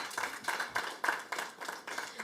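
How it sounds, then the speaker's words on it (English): An audience at a press conference applauds, a short burst of moderately loud, steady clapping from a room of people that fades slightly toward the end. "So let's give her a round of applause."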